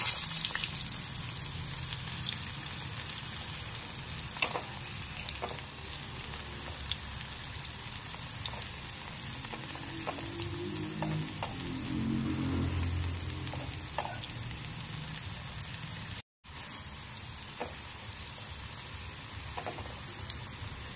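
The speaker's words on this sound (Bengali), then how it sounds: "এক সাইড ফ্রাই হয়ে গেছে না? একটু উল্টে দিন, উল্টে পাল্টে দিন" Bitter gourd (karela) slices fry in oil in a pan, giving a continuous close sizzle with light crackles and occasional stirring scrapes that briefly cut out once, with no speech.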